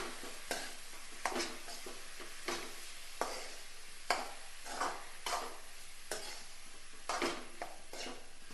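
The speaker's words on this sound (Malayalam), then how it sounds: "വേവിച്ചിട്ട് ഊറ്റി വെച്ച കോളിഫ്ലവർ ഇതിലേക്ക് ഇടും ഇത് നന്നായിട്ട് ഇളക്കാം" Boiled, drained cauliflower is stirred in a cooking pan: quiet, evenly spaced scraping strokes about once a second over a faint sizzle, close by and without speech.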